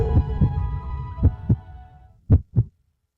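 Six heavy thumping heartbeats in paired lub-dub beats, loud and close, slowing slightly with a short gap before the last pair, followed by silence; a dramatic effect over a low hum with no talk.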